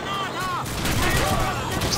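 Gunfire from the World War II shooter game Call of Duty 2, a dense, loud clatter of shots throughout with battle noise all around.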